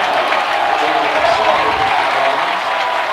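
A loud crowd cheers and applauds steadily at a high school varsity football game between Pius X and Gretna, a dense, continuous roar from the stands with no break.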